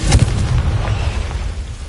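A Confringo blasting spell goes off in Hogwarts Legacy, one loud close booming explosion with a sharp onset and a rumbling tail that fills the short moment.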